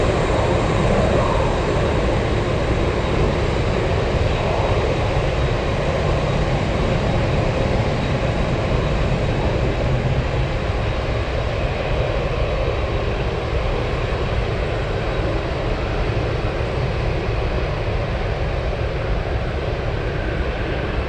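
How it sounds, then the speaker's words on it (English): A cargo airliner taxis at Anchorage airport, a loud, steady jet engine whine and rumble that holds unbroken, fairly close. "That one just taxiing down the runway."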